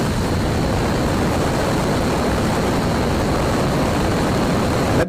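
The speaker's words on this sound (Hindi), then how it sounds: "अब सभी इंजन टेक ऑफ के लिए रेडी है तो इंजन इग्नाइट होते हैं और स्पेस मिशन के लिए आगे बढ़ते हैं।" Rocket engines ignite for lift-off in a 3D animation of a reusable rocket, a steady, loud, dense roar of broadband engine rumble that holds unbroken and alone for about five seconds.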